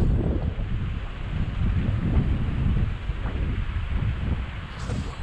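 Strong, steady wind buffets the microphone beside choppy lake or sea water, a constant low roar with slight gusting throughout.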